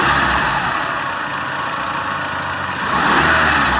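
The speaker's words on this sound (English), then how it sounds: "I'm going to snap the throttle while watching the voltage." A Chrysler PT Cruiser engine runs loud and close with a steady drone, dipping slightly and then rising again as the throttle is snapped.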